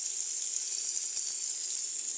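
Onion and garlic hit hot oil in a pan, giving a steady, bright hiss of frying that holds evenly for a couple of seconds, with no voices.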